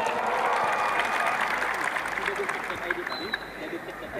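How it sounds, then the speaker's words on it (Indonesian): A crowd at an Indonesian political discussion event applauds for Indonesian journalists, producing a dense, steady wash of clapping that starts strong and eases slightly toward the end, with faint crowd murmur beneath. "Tepuk tangan untuk jurnalis Indonesia"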